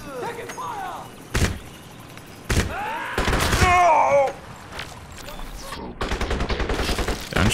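Enemy gunfire in the shooter game Crysis: several loud, sharp bursts of shots crack out in quick succession, with a voice talking between and over them.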